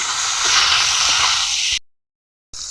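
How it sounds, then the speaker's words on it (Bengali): Snakehead (taki) fish sizzle steadily in hot oil in a pan, seasoned with turmeric and salt, a broad continuous hiss that cuts out briefly near the end before resuming. "তো এগুলো দিয়ে টাকি মাছগুলোকে আম্মু ভেজে নিচ্ছে"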